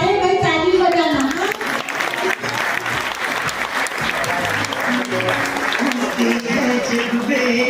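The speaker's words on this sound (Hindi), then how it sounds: "ताली बजाना।" A crowd claps steadily at a village wedding gathering, dense applause running throughout while voices talk and call out over it.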